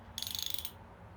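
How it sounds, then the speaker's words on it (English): A ratchet wrench tightening the case bolts on a 1994 Yamaha XT350 engine, a short rapid run of about a dozen crisp clicks, close and fairly faint, then quiet. "Tighten the bolt a little bit, go to your next."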